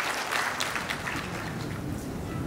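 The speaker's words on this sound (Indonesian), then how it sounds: "Tepuk tangan untuk kita semua." An audience at a national medical laboratory technologists' conference applauds. The clapping is steady and moderately loud, a continuous wash of many hands throughout with no talking over it.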